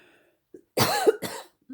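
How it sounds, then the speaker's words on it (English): One sharp cough bursts out, followed by a shorter second one, close and fairly loud against near silence. "there's my cough"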